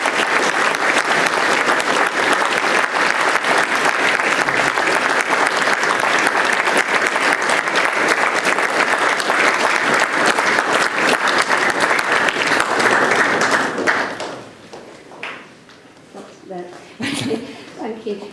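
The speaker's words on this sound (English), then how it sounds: "show our speaker and chairperson a warm round of" An assembly audience gives a speaker and chairperson a warm round of applause, dense sustained clapping for about fourteen seconds that then fades, followed by a few scattered sounds.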